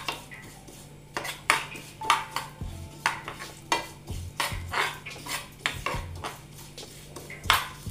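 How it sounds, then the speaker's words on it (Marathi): Sesame seeds are dry-roasted in a pan and stirred with a metal spoon, giving repeated close scraping and clinking strokes over a faint sizzle. "अशा पद्धतीने तीळ चांगले भाजायचे।"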